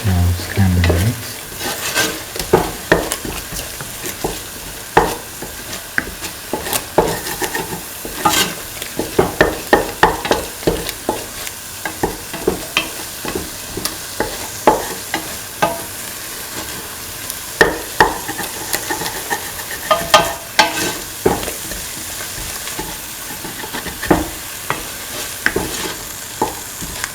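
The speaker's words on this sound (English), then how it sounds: "Now scramble eggs." Eggs stirred and scrambled in a hot frying pan for an egg and tomato vermicelli pasta, with steady sizzling and frequent scraping, clacking utensil strokes throughout, close and fairly loud.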